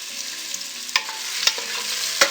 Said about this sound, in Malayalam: സവാള ഇനി നല്ല ഗോൾഡൻ കളർ ആവുന്നത് വരെ നമുക്കിത് വഴറ്റി കൊടുക്കണം.